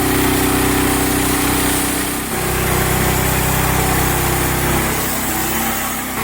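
A loud sawmill engine runs at high, steady revs without letting up while sawing boards, a constant droning roar that dips only briefly midway.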